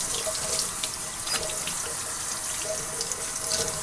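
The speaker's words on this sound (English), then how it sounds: "A little warm water." Warm water runs steadily from a tap while hands are rinsed beneath it, a loud, continuous hiss and splash with small fluctuations throughout.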